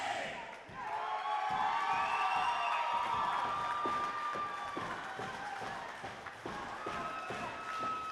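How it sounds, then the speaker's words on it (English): Wrestling crowd at an RWA indie show cheering in a loud, sustained roar while fans bang on the ring apron in a steady rhythmic pounding, the thumps growing clearer as the cheering settles. "RWA already has the crowd banging on the ring"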